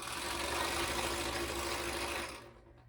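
Standard-size home sewing machine quilting a large quilt, a steady close motor hum with rapid needle chatter that stops abruptly near the end.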